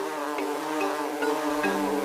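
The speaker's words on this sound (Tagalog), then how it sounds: "Bigla na lang inatake ng mga bubuyog si Chuchay" A swarm of bees buzzes as a sound effect, a loud, steady droning hum that continues without pause.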